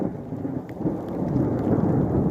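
Thunder rolls through a heavy downpour, a deep rumble that swells and stays loud under the constant hiss of rain on surfaces.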